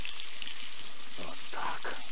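Stuffed carp fries in a pan with a steady hiss and sizzle, close up, broken by a few brief crackling spurts.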